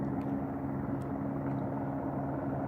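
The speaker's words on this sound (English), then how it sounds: "But now there's just a helicopter just hovering." A steady, distant police helicopter hovering, with a low, even hum that holds constant throughout.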